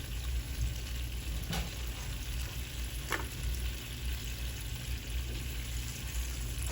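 Butter sizzles in a pan before rice goes in to brown, a steady close crackling hiss with a couple of brief louder pops and a thin background whine.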